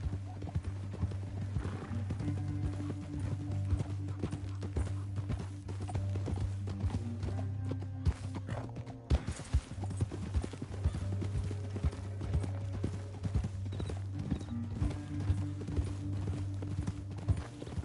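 Horse hooves clip-clopping in a fast, steady galloping rhythm over a sustained low hum, with a brief burst of louder clattering midway, in the video game Red Dead Redemption 2.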